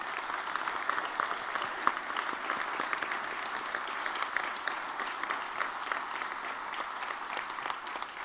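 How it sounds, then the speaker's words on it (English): Sustained audience applause at a county swearing-in ceremony after a children's chorus performance, an even, steady wash of many hands clapping for several seconds. "Let's give another round of applause under the direction of Leifer."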